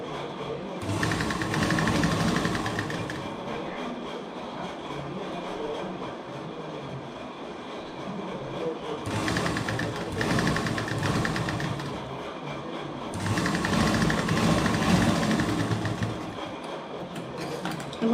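A sewing machine stitches the folded sleeves of a petticoat, whirring in long, continuous runs with brief slowdowns between them.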